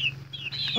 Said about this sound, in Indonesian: Ini adalah ayam petarung